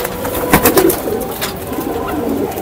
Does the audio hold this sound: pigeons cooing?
yes